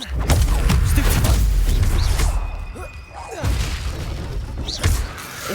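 A Stupefy spell is cast in Hogwarts Legacy combat as loud booming impacts and crashes, with a heavy low-end burst that fades, followed by further spell hits and whooshes.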